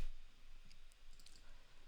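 Light keyboard clicks sound as shortcuts are typed during a UI design session, several quiet, close taps scattered over a faint background hiss with no talk.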